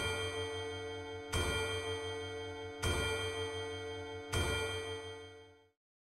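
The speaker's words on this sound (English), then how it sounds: "The chiming of the clock rings out loudly." A clock in the game NIKKE chimes loudly, three evenly spaced ringing strikes about a second and a half apart, each tone sustaining long and bright before fading out at the end, with no voices.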